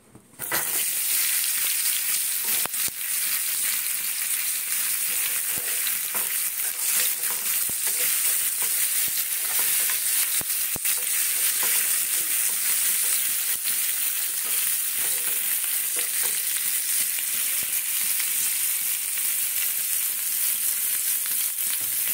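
Potatoes coated in turmeric, Kashmiri chili and salt hit hot oil in a pan, bursting into a loud, dense, continuous sizzle that holds steady for over twenty seconds with occasional faint stirring ticks.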